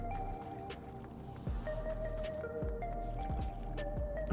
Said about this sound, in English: Oh, the sound of the water on this.